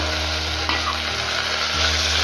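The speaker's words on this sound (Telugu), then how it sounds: "యాడ్ చేసుకొని వీటిని కొద్దిగా ఫ్రై చేయాలి ఫస్ట్ ఈ పోపులో కందిపప్పు ఫ్రై అయితే కూడా పప్పు చాలా టేస్టీగా ఉంటుంది" Toor dal frying in a hot oil tempering for fenugreek dal, a close, steady crackling sizzle with a couple of light stirring knocks.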